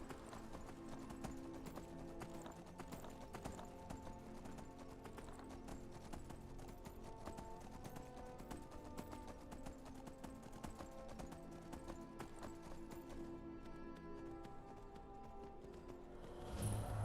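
In Skyrim, a horse's hooves clip-clop in a steady, continuous rhythm over a soft background of game music, moderately quiet and without a break.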